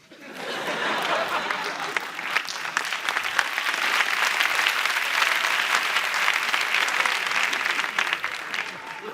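A comedy-show audience bursts into steady applause, loud and continuous for several seconds, with a few scattered chuckles mixed into the clapping.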